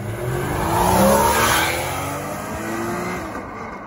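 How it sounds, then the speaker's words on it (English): A Porsche Cayman pulls away after a car photoshoot, its engine note swelling and then fading steadily into the distance over a few seconds, with no voices heard. "Here goes the Porsche."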